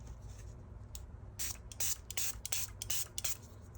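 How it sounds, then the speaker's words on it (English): An airbrush blows air to dry freshly applied paint on a handmade calendar gift, giving several short, quiet hissing bursts that come in irregular spurts with no talking. "I'm just using the airbrush to dry it"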